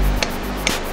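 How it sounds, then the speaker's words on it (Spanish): A hammer taps a rock wall twice with sharp, separate knocks at a Mexican climbing route. The hits are close and stand out over a steady background hiss. "para armar una ruta necesitamos primero probar la roca que esté sólida con un martillo"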